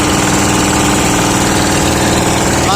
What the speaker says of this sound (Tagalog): Dalawang makina ng aming kalaki bangka. Nagsasabay pala yan.